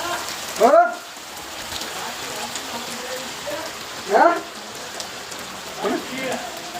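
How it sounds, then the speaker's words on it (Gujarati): The first rain of the season hisses steadily throughout, with short bursts of voices breaking in a few times over the constant patter. "અને વરસાદ આવ્યો"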